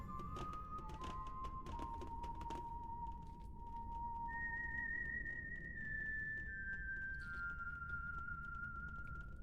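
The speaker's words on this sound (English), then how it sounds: "Is that supposed to be him whistling?" Video game character whistling a tune in Legend of Heroes: Trails Through Daybreak, a clear sustained whistled melody of long held notes stepping between pitches, quiet over a low background with a few clicks early on.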